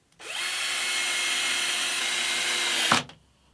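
A power drill bores screw holes into a wooden bench hook, running steadily and loud for nearly three seconds before a brief knock and stop; no talking.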